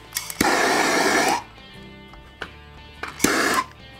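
A heat gun blows hot air over a vinyl skin on an AR-15 PMAG magazine, a loud steady whoosh lasting about a second, then a second shorter blast after a pause, close and alone.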